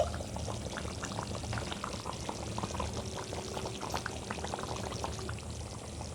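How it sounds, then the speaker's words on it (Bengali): Chicken curry in a red gravy bubbles steadily in a pot, a continuous busy boiling and spluttering that holds at an even level throughout with no voices. "10 মিনিট ফুটে গেছে, এবার আমি ঢাকাটা খুলে নেব।"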